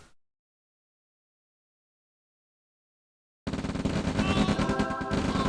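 Rifle infantry gunfire in the OpenRA Red Alert strategy game bursts in after a long silence, a dense, loud, continuous crackle of rapid shots that keeps going to the end.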